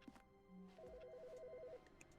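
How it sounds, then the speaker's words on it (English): A telephone rings inside the video game The Stanley Parable, a warbling electronic trill that repeats steadily for over a second at moderate volume, with faint ambient game noise around it and no talking. "Wait, did I just hear a phone?"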